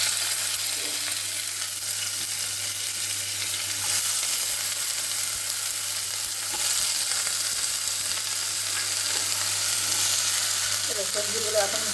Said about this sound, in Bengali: সবজিগুলো এখন ভাজা হোক।